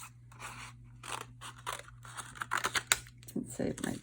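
Scissors snipping away excess paper while making paper flower bows, a run of short crisp cuts and crinkles at close range, with a steady low hum underneath.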